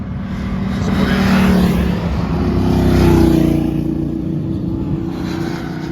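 Motorcycles pass along a street at night in Muğla, with a broad engine roar that swells and fades twice, fairly loud and close, with no talking.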